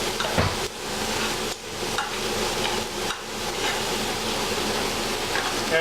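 Kumara rosti frying in a pan with a steady, loud sizzle throughout, broken by a few brief scrapes and knocks of a utensil.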